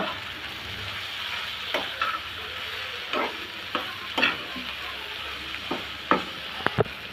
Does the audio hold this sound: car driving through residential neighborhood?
no